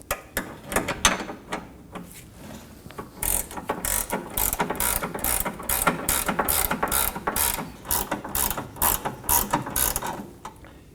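A ratchet wrench removes the 16mm nuts from a rear sway bar end link on a 2015-2023 Nissan Maxima, with a few slow clicks and then a long run of loud, fast, steady ratcheting up close.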